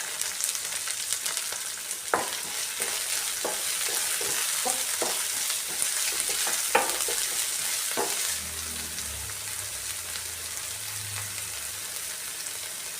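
Onions frying in a pan in a Kerala-style home kitchen, a steady hiss of sizzling oil with a run of light scraping stirs and utensil taps, then quieter low rumbling, no talk.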